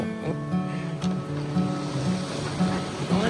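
A sailboat under way on open ocean on the last leg to Cabo, with steady rushing wash of waves against the hull and wind noise, continuous and fairly close, with faint tonal hum underneath and no talk.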